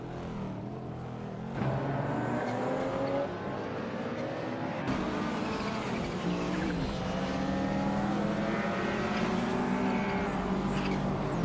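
Race cars in a racing video game roar under hard throttle, steady engine whine with shifting pitch sweeps layered together, loud and continuous throughout with occasional tire squeal.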